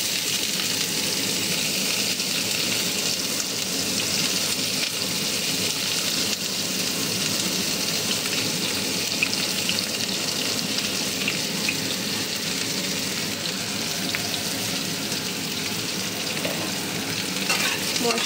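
Potatoes and cauliflower fry in a pan over cumin seeds tempered in oil. A continuous close sizzle runs with scraping stirs and soft bubbling at an even loudness, and no voices are heard.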